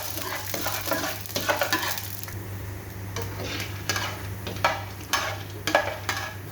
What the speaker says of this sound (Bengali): এখন আমি এগুলো সুন্দর করে নেড়ে দেবো